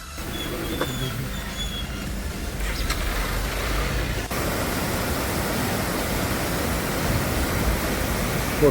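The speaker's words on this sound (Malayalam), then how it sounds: "മല മുകളിലേക്ക് കയറും തോറും ഇരുവശത്തും വെള്ളച്ചാട്ടങ്ങൾ കാണാം നല്ല മഴയായതുകൊണ്ട് വെള്ളത്തിന് നല്ല ശക്തിയാണ്" Rain-swollen waterfalls beside a mountain trail up Paithal Mala give a broad rushing roar that is steady and moderate at first, then grows fuller and louder partway through and holds there without voices.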